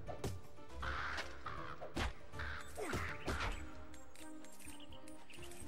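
Crows caw in the video game Palworld, a few harsh calls spread over several seconds amid layered game sound effects and steady background noise.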